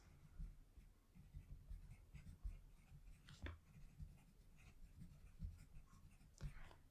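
Pen or pencil writing on a paper D&D character sheet, close and soft, with scratchy strokes in bursts and a few sharper marks, under a quiet low background and no talk.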